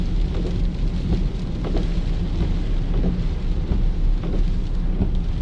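Rain pours steadily on a vehicle during a drive through a thunderstorm, with dense drumming of drops and low rumbles of thunder, loud and continuous, with no voices.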